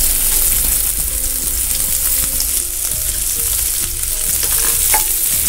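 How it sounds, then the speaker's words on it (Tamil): Neem flowers frying in ghee in a pan, a loud, steady close-up sizzle with stirring scrapes running the whole time. "நம்ம வேப்பம்பூ வந்து கழுவி பொடி வச்சிருக்கிற அந்த வேப்பம்பூவை வந்து இதில்"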